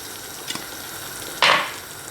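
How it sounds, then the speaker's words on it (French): Fish stock is stirred into hot water, with a faint tap of the spoon followed by a short, bright swish and splash of liquid nearby. "Je mélange mon fumé de poisson."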